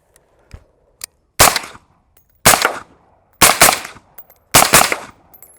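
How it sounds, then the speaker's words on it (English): Four loud, evenly spaced shots from a 5.56 rifle fitted with a SureFire SOCOM suppressor, each a sharp muffled crack with a brief tail, preceded by a couple of faint clicks. "So let's do some shooting."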